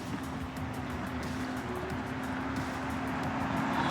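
A Rictor Range Alpha-S9 electric scooter climbing a hill at 11 mph: a steady motor whine holds a constant pitch under a broad rumble of rolling and road noise, continuous and moderately loud throughout.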